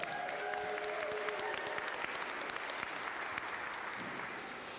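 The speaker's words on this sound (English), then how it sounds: "Give the dancers another round of applause." An audience at a healing conference applauds the dancers, with dense, steady clapping sustained throughout at an even level before easing slightly at the end.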